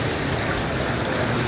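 Floodwater rushes steadily from a collapsed rain drain near a flooded road during record heavy rainfall in Sialkot, a continuous loud close-up roar of pouring water with no pause.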